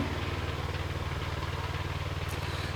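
A hybrid walk-behind tractor engine runs steadily with a low, even throb and a slight rhythmic pulsing, moderately close and unchanging throughout.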